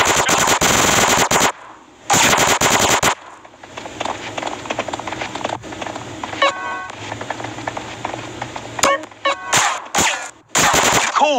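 Automatic gunfire in GTA San Andreas, loud rapid bursts with short pauses between them, followed by scattered shots and other game sounds.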